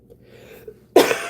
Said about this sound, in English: I got a dry cough. I've got a cold.